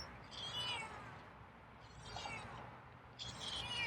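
A feral cat meows three times, drawn-out and fairly faint, with gaps between each call over a quiet background hum.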